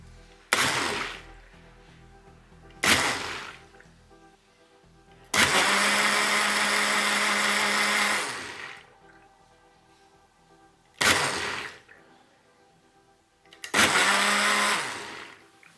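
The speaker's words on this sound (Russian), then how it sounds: "Измельчитель представляет собой 6 лезвий, разных, размещенных под определенными углами." Xiaomi electric six-blade food chopper, 500 W at 30,000 rpm, whirring in five loud bursts: short pulses, one long run of about three seconds, then two more short pulses, each with a steady motor hum and no talking.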